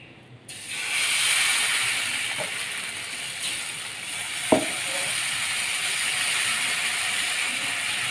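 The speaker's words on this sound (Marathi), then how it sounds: "पॅनमध्ये थोडंसं पाण्याचा थोडा द्यायचा आणि नंतर थोडंसं तेल टाकून घ्यायचं" Water and oil sizzle on a hot dosa pan while a jalidar dosa cooks for breakfast, a steady broadband hiss with a sharp tap near the middle, close and continuous with no talk.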